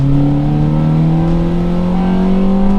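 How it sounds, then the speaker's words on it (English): A Honda Fit engine revs hard at wide-open throttle in second gear and climbs steadily in pitch through its i-VTEC crossover, a loud, close, continuous droning whine. "You hear that VTEC crossover or that iVTEC crossover."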